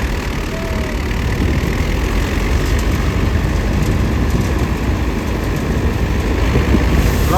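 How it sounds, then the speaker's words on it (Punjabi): A brand-new New Holland 850 tractor engine running a five-foot thresher through its PTO: a loud, steady, close-up diesel roar with a dense low rumble that holds constant throughout, with no talking. "ਨਿਊ ਹੋਲੈਂਡ 850 ਪਹਿਲੇ ਦਿਨ ਹੀ ਥ੍ਰੈਸ਼ਰ ਤੇ ਪਾਤਾ 0 ਮੀਟਰ"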